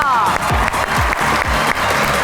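Studio audience at a Pakistani poetry talk show clapping to welcome two poets, a dense steady burst of applause with a host's voice running over the start.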